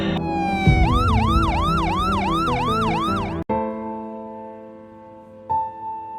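Ambulance siren wailing in a loud, rapid repeating rise-and-fall pattern, then cutting to a steady held tone, close by with no talk over it.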